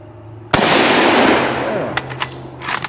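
A loud gunshot cracks out and its echo rolls off over a second, followed by a few sharper, fainter pops and clinks as rounds strike targets such as cinder block pieces outdoors.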